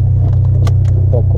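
A car on a test drive after work on the MAF sensor or a vacuum hose, its engine giving a loud, steady low rumble and hum heard from inside, with faint rattles and clicks over it.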